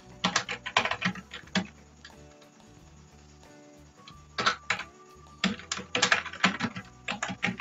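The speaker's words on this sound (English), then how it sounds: "type your location here and home address here" Keys tapped on a computer keyboard while entering address details into a business card layout in PowerPoint, in close irregular bursts of clicks with a quieter pause midway.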